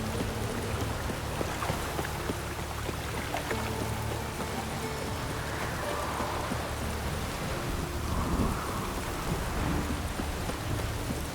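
Rain pours heavily and evenly in The Witcher 3 video game, a dense wide hiss with low rumbling underneath and faint scattered in-game sounds, no voices.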